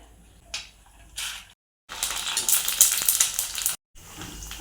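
Ready-made pani puri shells deep-fry in oil over medium heat, giving a bright, hissing sizzle that swells and bubbles loudly for a couple of seconds between short silent gaps, with a few softer splashes near the start.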